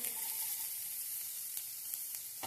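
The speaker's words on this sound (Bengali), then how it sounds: "রসুনগুলো একটু ভাজা ভাজা হয়ে গেছে, এরপর পেঁয়াজগুলো অ্যাড করব" Chopped garlic frying in a pan, with a faint, steady hiss of oil crackling throughout and a few soft pops near the end.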